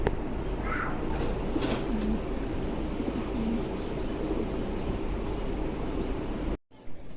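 Pigeons at a pigeon farm, including grey Lahori birds, cooing steadily in a dense chorus close by, with low rustling and a noisy, continuous background throughout.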